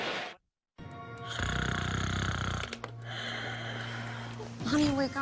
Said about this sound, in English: Honey, wake up. You're snoring. It's really bad tonight.